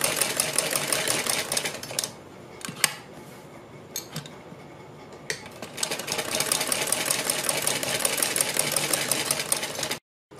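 Sewing machine stitching around a neck design on fabric with buckram, a close, steady rapid clatter running for several seconds with a few brief pauses and knocks, stopping abruptly near the end.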